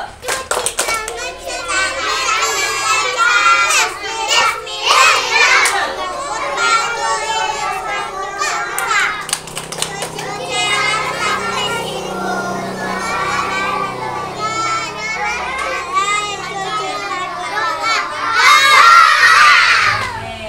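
Young preschool children perform the wudu clapping chant, rhythmic hand claps mixed with loud, excited group singing and shouting, rising to a lively burst near the end.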